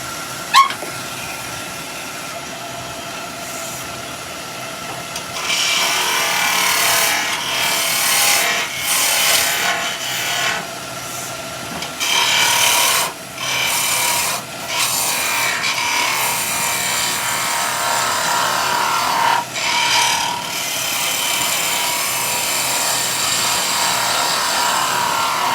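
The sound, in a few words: wood turning on a lathe with a skew chisel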